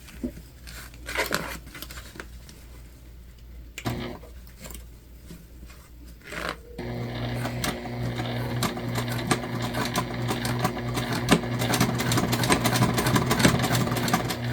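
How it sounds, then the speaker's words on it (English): Sewing machine back stitching a seam on a shoulder bag: a few short bursts of stitching with pauses, then a long continuous run of fast, steady mechanical whirring up close. "we're gonna do a real good back stitch here where we start again"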